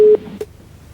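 A phone line's disconnect tone sounds after a call is cut: a sharp electronic beep followed by a second short beep, then near silence.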